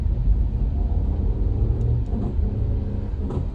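Car interior on a road in Jamaica, with a continuous low engine and tyre rumble that stays steady and fairly loud throughout, no voices.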